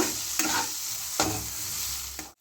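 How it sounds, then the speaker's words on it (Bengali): Spice masala with green chilies and coriander leaves is sautéed for a small amudi fish curry, giving a continuous close sizzle broken by three sharp spatula scrapes against the pan, with no talking. "দিয়ে আবার ভালো করে কষে নেব"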